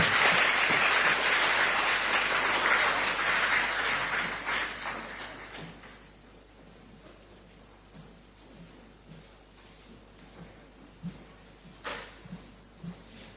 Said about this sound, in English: A round of applause for Professor Yao Nyako.